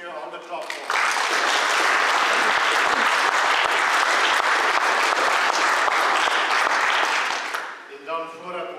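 A church congregation bursts into loud, dense applause for visitors, clapping steadily for about seven seconds after a brief spoken lead-in, with voices resuming as it fades.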